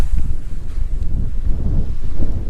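Strong gusty wind near Devils Tower, Wyoming, buffets the microphone with a deep, rumbling roar that swells and dips continuously, with no voices.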